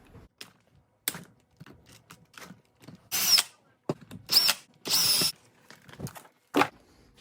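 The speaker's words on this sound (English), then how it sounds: "gonna remove these 4 screws right here with a 3mm drill bit" A power drill with a 3mm bit is used on the four screws of a motor mount in an XTM Mammoth RC car, giving several short high whirring bursts between quiet tapping and handling sounds.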